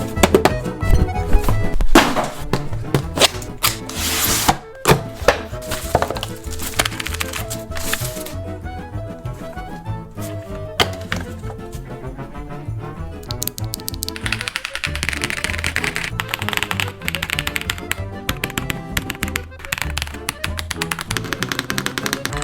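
A Redragon K707 Pro gaming keyboard is unboxed and typed on, with close tapping, clacking keystrokes and thunks from handling the packaging and board, dense and fairly loud, over a steady background bed.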